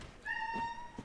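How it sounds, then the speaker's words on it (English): A pet cat gives a single drawn-out meow, fairly close and clear against a quiet background. "I don't know if you guys can hear her meowing away"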